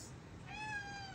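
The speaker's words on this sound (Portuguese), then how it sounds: "Meu gato." A cat gives one close, clear meow that rises and then slowly falls over about half a second, above a faint background hum.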